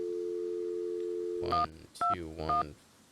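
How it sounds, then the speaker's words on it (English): A cell phone number is keyed in within a Nancy Drew video game: a steady tone gives way to a quick run of distinct beeps, clear and close. "Maybe we could call Sally if she's got a cell phone now"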